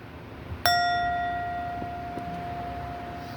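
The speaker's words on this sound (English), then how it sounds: "I will now close this session in with the sound of the bell." A meditation bell is struck once to close a session, giving a clear bright ring that fades slowly over about three seconds in a quiet room.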